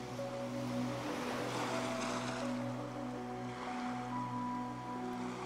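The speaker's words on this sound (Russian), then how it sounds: "Все пространство вокруг вас наполняется шумом прибоя," A steady wash of ocean surf rolls on without pause under calm, sustained droning music tones, even in loudness and fairly soft.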